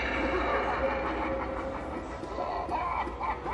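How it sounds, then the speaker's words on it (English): A train rumbles past at a steady level, a broad continuous roar with faint rail hiss, heard from nearby while someone walks outside; no clear speech stands out over it. "Oh, there's a train."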